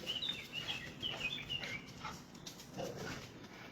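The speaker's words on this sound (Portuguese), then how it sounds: "Os cachorros estão ali agitados de manhã, muitos cachorros passando pela rua, eles ficam agitados." Agitated dogs in a street in the morning, distant whimpering and yelping mixed with chirping birds and faint ambient noise, quiet and far off.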